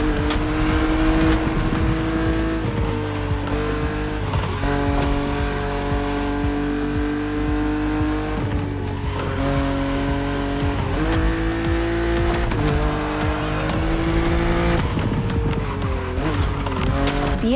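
A BMW Z roadster racing in The Crew Motorfest, its engine loud and close, revving through repeated gear shifts with rising and falling tones and continuous road noise.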